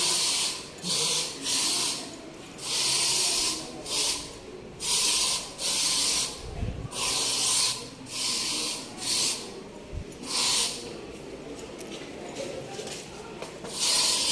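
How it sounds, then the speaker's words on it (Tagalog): Repeated short hissing bursts of an insect repellent spray against mosquitoes, about a dozen evenly spaced puffs with brief pauses between them, close by. "At ngayon ay mag-spray po ako."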